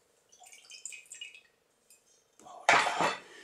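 Vodka and Blue Curaçao cocktail stirred in a glass, faint clinks at first, then a sharp louder clink and rattle of a spoon against the glass, close and alone.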